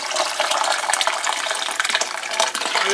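Liquid kibble enhancer pours onto pet food in a close, continuous splashing gush that stays loud and even from start to finish, with no voices.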